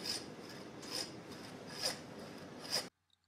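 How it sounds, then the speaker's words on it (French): A saw cuts through a beef hip bone during butchery of a beef leg, giving about four rasping strokes in a steady rhythm, close and fairly quiet, then stopping abruptly. "Le coxal va être scié."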